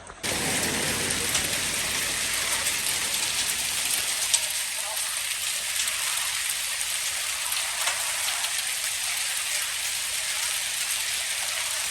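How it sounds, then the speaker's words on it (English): Dense, steady hiss of mixed snow and hail pelting down in Slovenia, loud and unbroken throughout, with faint bursts of talking mixed in. "And we're in the middle of a snow/hailstorm."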